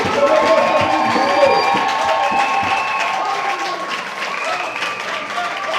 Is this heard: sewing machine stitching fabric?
no